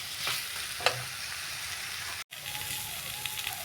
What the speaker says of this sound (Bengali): এবার কচুর মুখেটাকে মশলার সাথে ভালো করে সাঁতলে নিতে হবে খুব ভালো করে কষাতে হবে